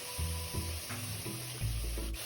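Shredded coconut filling is stir-fried in a wok, with steady sizzling and low scraping of a spatula that swells in short bursts, close and fairly loud, with no voices.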